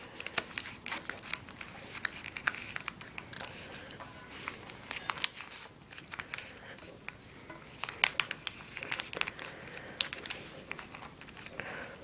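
Origami paper being folded by hand into a Yakko-san figure, corners brought to the center, giving soft crinkles, creases and brief crisp rustles at close range, with quiet intermittent handling throughout and no speech.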